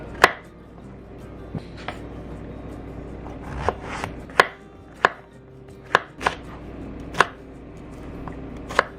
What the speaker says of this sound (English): I'm just going to cut everything into the same size pieces